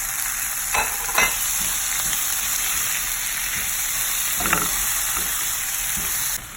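Tomato frying in a skillet for chicken stew, a bright steady sizzle close by, broken by a few spatula scrapes and stirs, continuous and fairly loud until it fades slightly at the end.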